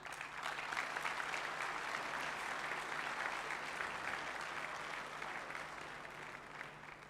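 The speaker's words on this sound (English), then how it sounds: "A big warm applause." Sustained applause from an audience at the opening ceremony of the European RoboCup 2022 in Guimarães, a dense, steady clapping that holds strong throughout and eases slightly near the end.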